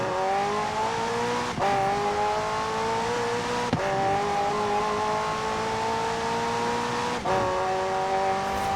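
A McLaren hybrid with a twin-turbo V8 and electric motor in Forza Horizon 4 drones steadily at high revs, the engine pitch climbing through each gear before three sharp shift breaks drop it and it rises again.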